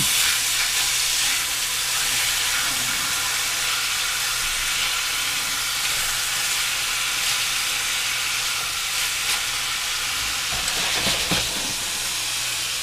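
Short ribs searing in a hot frying pan, a loud, steady, close sizzle and hiss that continues unbroken, with a few brief crackling bursts toward the end.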